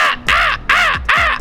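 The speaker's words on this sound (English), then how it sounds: "Shut up, you fucking crow." A crow caws three times, loud and close, with harsh evenly spaced calls in quick succession and no talk over them.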